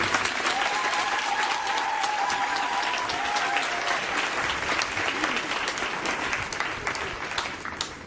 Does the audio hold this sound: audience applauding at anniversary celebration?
yes